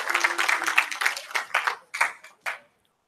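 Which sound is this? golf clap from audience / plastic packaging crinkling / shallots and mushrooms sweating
golf clap from audience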